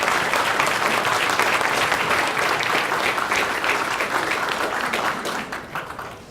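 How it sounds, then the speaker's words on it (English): Dense, loud applause from a fire department gathering honoring a chief engineer's 50 years of active service, a sustained wall of clapping that thins and fades toward the end. "Thanks for the claps."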